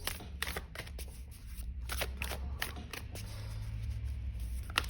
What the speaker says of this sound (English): I'm going to just pull a couple of oracle cards to end with.